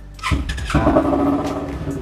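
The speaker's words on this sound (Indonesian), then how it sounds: "kita geber tipis-tipis biar kalian tahu seberapa besar suara Ninja" A Kawasaki Ninja ABS Special Edition motorcycle engine catches and revs up close, a sharp burst of throttle followed by a rough, throaty idle.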